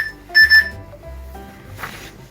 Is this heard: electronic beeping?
yes